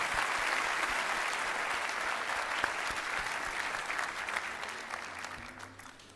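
An audience applauds at a 2025 Cushing Academy commencement ceremony with a sustained, even round of clapping from a large crowd that slowly fades over several seconds.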